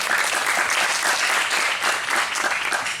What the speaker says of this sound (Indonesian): Tepuk tangan untuk Pondok Pesantren Al-Anwar